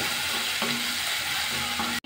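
An onion fries with dried red chillies and curry leaves on a medium flame for horse gram rasam, a soft steady sizzle broken by two scraping stirs of a spoon, up close and without talk.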